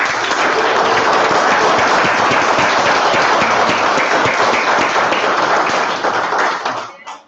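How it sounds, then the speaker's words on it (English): An audience at a civic panel discussion gives the panelists a round of applause, a loud, dense burst of clapping that holds steady for several seconds and then tapers off at the end. "let's give a round of applause."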